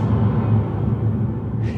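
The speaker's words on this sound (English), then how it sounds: "It's just a huge boom sound, and it sounds like this." A huge, deep boom from a drum pad impact sample for worship percussion, rumbling low and loud throughout and fading slightly toward the end, alone with no talking.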